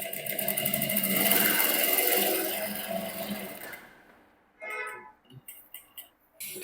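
A sewing machine runs a basting stitch across blouse panels, its rapid mechanical rattle steady for several seconds, then stopping and restarting in short bursts.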